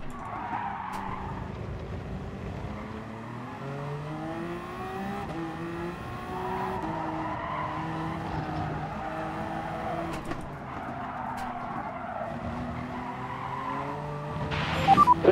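A race car in Gran Turismo Sport howls through gear changes with revving engine tones rising and falling, while tires squeal and skid continuously over about fifteen seconds, loud and close, with no talk.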